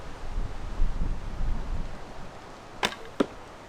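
Wind gusts roar and rumble, then a broadhead arrow is loosed from a bow, giving two sharp, quick hits a moment apart as the gust dies down.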